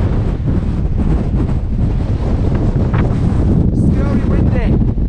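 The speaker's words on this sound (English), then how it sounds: "I can feel the wind already picking up" Strong wind roars across exposed Cox Tor on Dartmoor moorland, buffeting the microphone with a loud, continuous rumble throughout. Brief faint voice traces sit under the gusts.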